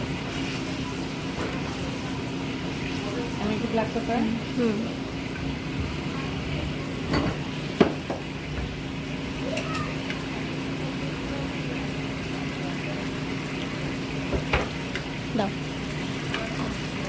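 Spaghetti noodles stir-fried with soy sauce and tomato sauce in a pan, a steady frying hiss under a constant low hum, with occasional clicks and scrapes of stirring and some faint talking.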